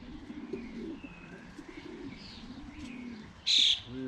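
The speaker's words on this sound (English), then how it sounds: "What a lovely pigeon." A blue cock racing pigeon coos softly and repeatedly in a loft, a low rolling murmur that continues throughout, with other birds around it and a brief sharp chirp near the end.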